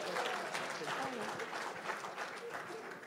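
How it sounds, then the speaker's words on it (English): Faint applause at a symposium on Hurricane Maria and Puerto Rico, a soft patter of clapping running under people talking. "And she applauds, look."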